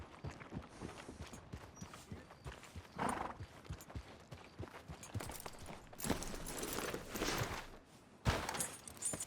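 Horse hooves in Red Dead Redemption 2 clip-clop in a steady walking rhythm, fairly close, with a short whinny and some rustling movement around them.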